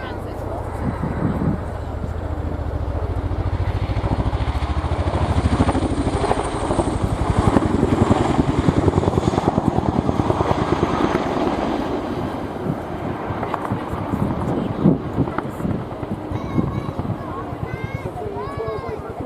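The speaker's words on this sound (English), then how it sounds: "The aircraft will now run in from the right to perform a low-level orbit, listening out for that distinctive blade flap." A helicopter making a low-level orbit at an airshow, its rotor blades beating in a loud, rapid chopping pulse that swells and fades over a steady engine roar, with a commentator talking over it.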